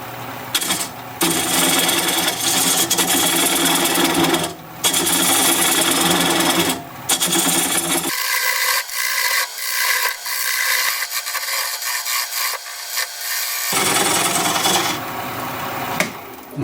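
Wood lathe turning apricot wood while a tenon is cut away at about 600 RPM, a loud steady motor whir with scraping tool-on-wood chatter, a brief quieter gap midway, then cutting resumes.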